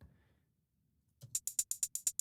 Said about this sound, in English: There's another hat.